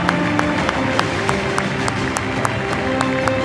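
Applause fills the hall at the Sadri Alışık acting awards ceremony, a steady crowd clapping texture with sharp individual claps standing out at a loose, regular pace.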